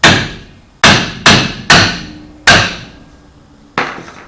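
Hammer taps on the rear brake shoes of a Chevy Silverado during a brake service, six sharp metallic strikes ringing close and loud at uneven intervals with short decays between.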